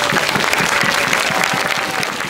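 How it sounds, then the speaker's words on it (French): A festival audience at a Tolkien-themed gathering in Brittany applauds steadily, a dense wash of many hands clapping close by for a couple of seconds before cutting off abruptly, with some crowd noise mixed in. "Vous pouvez déjà commencer à applaudir, je pense."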